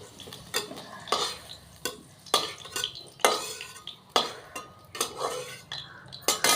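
Fried potatoes are scooped out of a pan with a metal utensil. Repeated scraping strokes and light clinks come at an uneven rhythm over a faint background sizzle.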